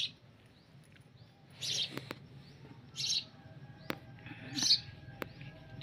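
Morning sparrows give scattered chirps, several separate bursts of high tweets with sharp clicks between them, fairly near against a quiet background.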